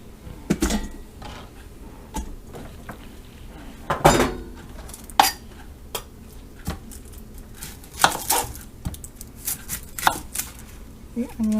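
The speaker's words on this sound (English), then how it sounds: "make some nice big chunks out of the carrots" Knife chopping carrots into big chunks on a board, a series of sharp irregular thuds and clacks, close and fairly loud, with quiet handling sounds between strikes.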